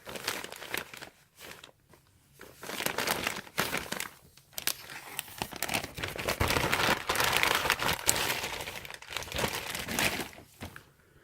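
Plastic packaging crinkles and rustles continuously during the unboxing of a Supreme apparel order, close and fairly loud, with dense crackling that swells and fades over several seconds.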